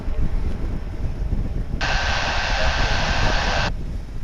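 An Airbus A319 airliner at Dallas/Fort Worth airport: a steady, fairly loud rumbling engine roar with a brief bright hissing whine rising over it partway through.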